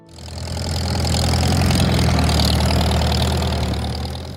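A Farmall H four-cylinder tractor engine runs steadily with a low, rumbling idle, holding a constant even chug throughout.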